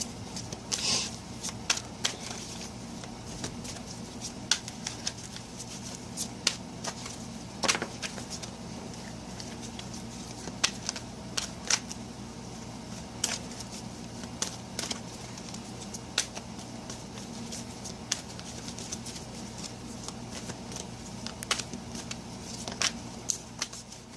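Quiet, ongoing riffling and snapping of cards being shuffled over and over at close range, in irregular bursts against a low hum.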